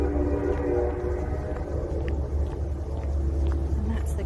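A commuter train passes on an evening walk along a wet grassy path, giving a low, steady rumble from a moderate distance that swells slightly and then eases, with no talking.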